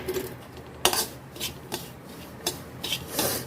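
Semolina is stirred and roasted in a kadhai for halwa, a metal spoon scraping and rubbing against the pan in irregular strokes with sharp clinks, close and fairly steady.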